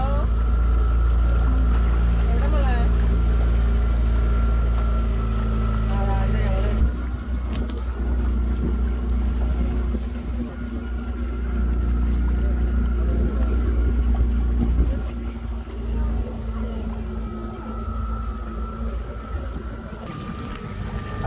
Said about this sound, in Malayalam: ബോട്ട് പോവാണ്